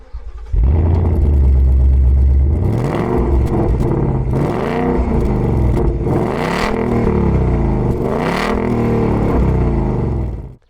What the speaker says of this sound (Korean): 이제 이렇게 마지막으로 배기음까지 들어보게 되었는데